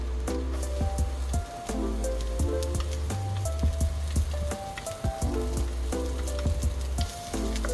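Onions sizzle in a pan with no cooking oil added, a soft steady crackle lying beneath louder background music with a bass line and melody.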